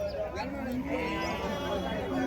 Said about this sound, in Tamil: செம்மறி கிடாங்க.